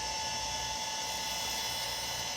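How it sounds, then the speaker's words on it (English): A Compaq Portable 3 hard drive runs with a constant whine and hiss, the head seeking faintly within the steady drive noise, close by with no speech. "Yes, I can hear the head seeking."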